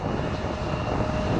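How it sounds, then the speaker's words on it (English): Embraer ERJ-175 regional jet departing Portland International Airport, its engine roar a steady, fairly loud rumble that holds evenly throughout with no talk over it. "after this ERJ-175 departs, we'll be cutting it out for this video"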